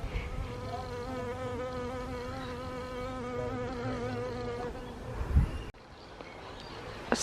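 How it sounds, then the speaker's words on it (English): Blue banded bees buzz steadily around a suburban garden, a close, sustained drone with wavering pitch that cuts off near the end. "there's like 3 of the blue banded bees at the moment just buzzing around here"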